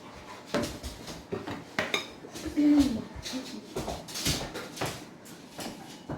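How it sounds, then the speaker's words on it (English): A spatula scrapes and clinks against a pan while sauce for meatball subs is stirred, with irregular close knocks and scrapes spread through the whole span and no talk. "I'm going to stir my sauce to make sure that it doesn't boil up on me and start popping out all over the place."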